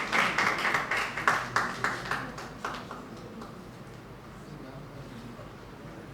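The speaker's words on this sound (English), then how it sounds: "With a round of applause" A meeting audience at a credit union annual general meeting gives a brief round of applause, a rhythmic patter of claps that tapers off after about three seconds into a quieter room.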